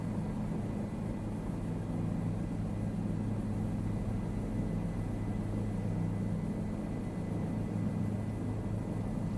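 Simulated helicopter in Microsoft Flight Simulator, a steady broadband rotor and engine drone with a low hum that holds unchanged throughout, with no talk over it.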